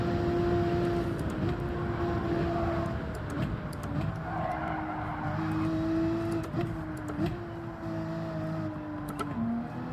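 A race car engine in a manufacturer cup race in a racing video game, holding a steady droning note with small shifts in pitch as it is revved up and eased back, heard alone.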